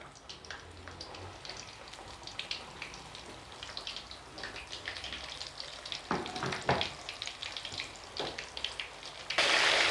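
Liver frying in plenty of hot oil, a dense, continuous crackling sizzle with bursts of spitting and a few louder stirring knocks, swelling to a harsher hiss at the very end.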